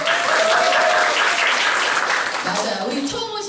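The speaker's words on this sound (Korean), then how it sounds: "박수 한번 보내주세요." An audience applauds steadily at a business presentation event, a dense, loud wash of clapping from many hands that holds for several seconds before easing slightly at the end.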